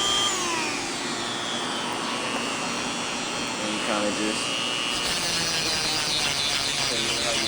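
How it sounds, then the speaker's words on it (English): A small power sander distressing denim buzzes continuously with a high, steady whine while a person talks over it. "It's like a little sander tool, so I kind of use it to do some of the distressing on the denim."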